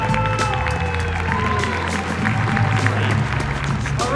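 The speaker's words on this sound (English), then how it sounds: "One last round of applause for all of our advocates, those here and at home." Audience applause fills a hall at the 2018 Teen Impact Awards, a steady, dense wash of clapping and crowd noise that runs unbroken from start to finish, with a low background rumble underneath.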